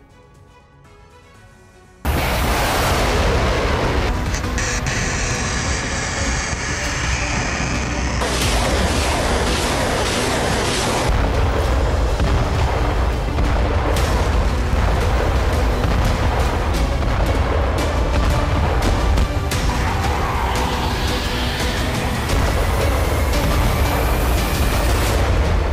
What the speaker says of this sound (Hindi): कदम कदम पर विस्फोटकों के जरिए धरती थर्रा रही है